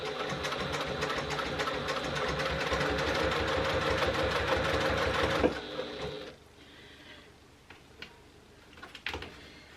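A sewing machine runs steadily for about five seconds while stitching a bag lining, a close rapid mechanical chatter, then stops, leaving quiet handling clicks and a few light knocks.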